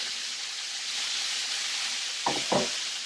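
Turkey meatballs fry in a pan with a constant bright sizzle, close and steady, broken near the end by two short scrapes of stirring.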